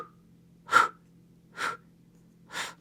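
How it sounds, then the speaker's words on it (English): Three heavy, breathy exhales blow close into a microphone during a mat Pilates workout, spaced about a second apart over a faint steady hum. "Sorry, I was breathing real heavy into this microphone"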